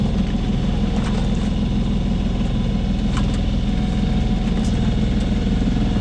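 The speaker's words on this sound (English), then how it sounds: "the forecast wind hasn't materialised yet, so we're motoring" A Contessa 26 sailboat's inboard engine runs steadily while motoring at sea in a big swell, a loud continuous low drone with faint knocks and rattles on top.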